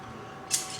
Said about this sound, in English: So they're really good scissors